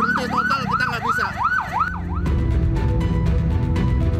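An ambulance siren wails in a rising and falling yelp, loud and close, stuck in a total traffic jam near Tanjung Priok port; the siren cuts off midway and heavy engine and road rumble takes over.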